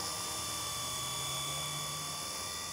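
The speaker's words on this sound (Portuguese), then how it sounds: "Helicóptero 4 canais." A V912 four-channel remote control helicopter, 47 centimetres long, hovers close by with a loud, steady high-pitched motor whine and rotor drone, unbroken and without any voices.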